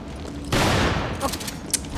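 Gunfire in the video game Resident Evil 5 erupts after a short pause as a loud, dense burst of rapid shots, continuing with sharp cracks for over a second, close and dominant.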